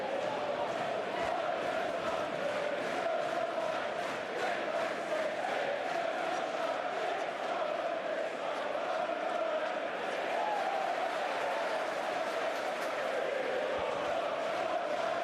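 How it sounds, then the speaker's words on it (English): A boisterous football crowd at Loftus Road for a League Cup match between Queens Park Rangers and Crystal Palace: a steady, loud roar of chanting and noise that runs unbroken throughout. "Boisterous crowd here tonight."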